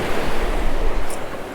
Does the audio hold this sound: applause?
no